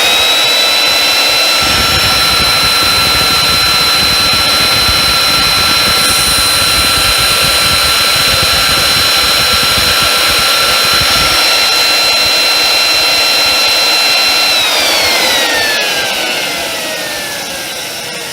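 An old British vacuum cleaner motor with dry bearings and a worn carbon brush runs at a steady loud whine with a rough hum for about fifteen seconds, then winds down as it is switched off.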